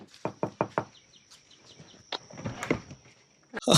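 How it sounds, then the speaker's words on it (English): Four quick, sharp knocks strike a door close by, followed after a pause by further thumps and rustling movement, with a high steady tone in the background. "Is that knocking at the door?"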